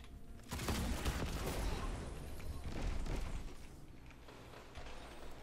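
In the video game Bonechiller, an energy slug shotgun fires in dense, booming bursts, loud and close, with crackling impacts. The shots fade into lower rumble toward the end.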